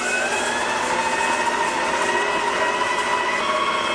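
A VIVOHOME stand mixer runs at speed 1 with a loud, constant motor whine and hum that stays even from start to finish, with no talking.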